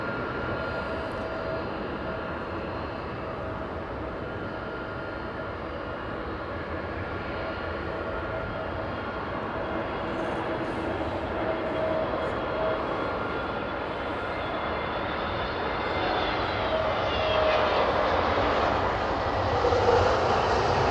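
An airliner departs Heathrow on a loud takeoff, its engines roaring steadily and close for the whole stretch, the broadband rumble building slightly toward the end as the jet climbs away.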